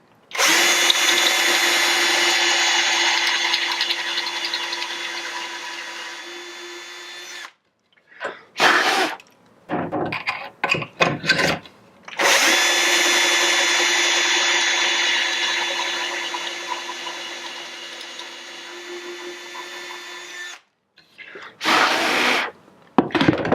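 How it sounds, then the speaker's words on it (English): A power drill boring holes through a jig into wooden benchwork, two long, loud, steady whining runs of several seconds each, separated by short bursts of drilling and scraping as the bit is repositioned. "so I've got one side drilled."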